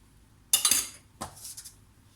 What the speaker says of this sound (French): Donc là elle mélange la levure chimique avec la farine